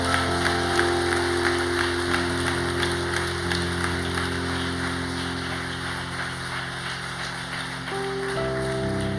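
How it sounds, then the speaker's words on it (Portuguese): A church congregation gives a sustained round of applause, a dense rain-like patter of many hands over steady held keyboard chords, with no talking. "Então vamos dar uma forte salva de palmas a Ele, Ele é digno."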